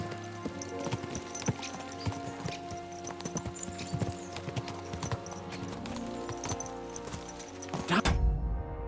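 Horse hooves clip-clop steadily in the medieval video game Kingdom Come: Deliverance II, a close, rhythmic trotting over rustling background sound, ending in a brief louder low thump.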